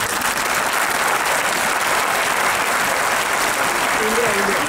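An audience at a comic poetry recital in Surat breaks into loud, dense applause, continuous and even throughout, with a voice faintly audible beneath the clapping near the end.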